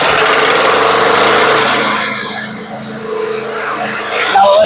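An old Snapper lawn mower with a Honda engine runs close by, loud at first and then dipping and rising as the engine note shifts, with a buzzy high edge near the end.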